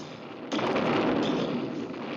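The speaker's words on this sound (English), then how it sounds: "Boris, those things make loud booms" Cartoon cannons disguised as trees on an island fire a loud, sustained boom that bursts in abruptly and rumbles on, heavy and close.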